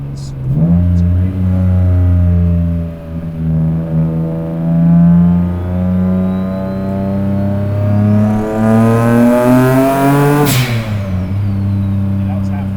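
A single-turbo 600 hp Nissan 350Z engine pulls at half throttle, a loud steady rising drone climbing in pitch for about ten seconds before the throttle lifts, with a turbo whistle rising alongside.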